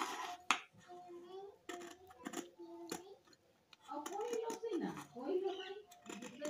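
Scissors cut through dress fabric in short, crisp snips scattered across the stretch, under near-continuous speech from a person talking throughout.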